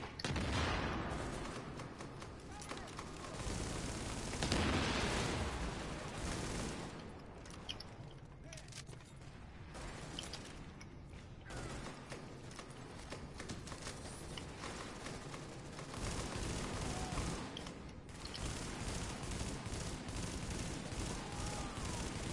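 Sustained gunfire from Tom Clancy's The Division during a Challenger Mode fight at the Warrengate power plant, with dense, continuous shots and bursts throughout at steady loudness, mixed with scattered game noise.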